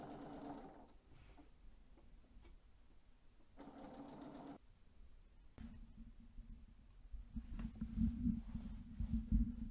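Domestic sewing machine running in bursts during free-motion quilting of a free-form improv design, a steady mechanical whir that stops and restarts, growing louder and busier toward the end.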